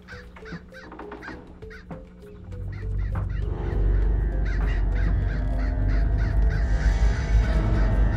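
Crows in the Hello Neighbor video game caw repeatedly in a quick rhythmic series, loud and close, with a deep rumbling background building beneath the calls.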